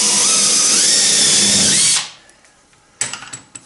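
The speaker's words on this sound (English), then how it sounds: "So I'm pre-drilling all the holes, setting all the screws." A power drill runs loud and steady for about two seconds, pre-drilling screw holes in a wooden boat's rudder, then stops, followed by faint workshop clatter and a few light knocks.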